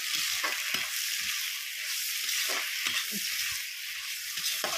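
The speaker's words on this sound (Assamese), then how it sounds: "পিঁয়াজটো ভাজি হোৱাৰ পিছতে মাংসটো দি দিলোঁ" Meat tossed in with fried onions sizzles in a pan, a steady bright hiss heard up close with occasional scraping stirs and clinks throughout.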